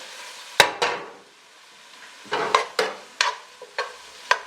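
Thyme and fresh ground black pepper being stirred in a pot: a sharp scrape, a pause, then a run of spoon strokes at an uneven pace over a low sizzle, with no talk.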